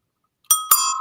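Hand-painted bicycle bell rung twice in quick succession, bright metallic dings that ring on clearly after each strike, loud and close with silence beforehand.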